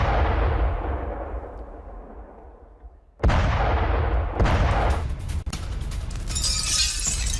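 Russian strikes on a highway in Ukraine produce loud blasts, a booming explosion that rumbles and fades, then a second sharp blast followed by sustained crackling debris and rumble.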